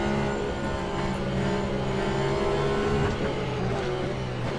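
Porsche 911 race car engine in the sim racing game Le Mans Ultimate, during a multiclass endurance race at Sebring: a loud, steady, continuous engine drone with a constant pitch throughout, no clear passes or gear changes.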